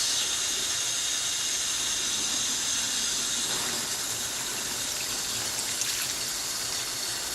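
A hydro-dipped part being rinsed under a steady, close hiss of spraying water that runs evenly throughout with no break and no voices.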